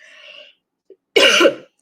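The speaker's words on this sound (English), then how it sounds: "so sorry about coughing." A single harsh cough, loud and close, after a brief moment of breathy voice.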